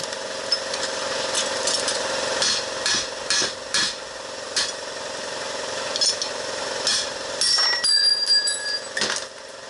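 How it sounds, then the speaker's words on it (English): Sharp metal hammer blows strike a ground-down rear axle bearing retainer on a 1966 Ford Mustang, irregular loud clanks spaced through a steady workshop hum, with a brief ringing metallic tone near the end. "Just grind that bearing and give it a whack with a hammer."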